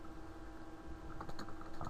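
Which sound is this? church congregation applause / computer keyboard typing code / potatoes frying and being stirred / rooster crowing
computer keyboard typing code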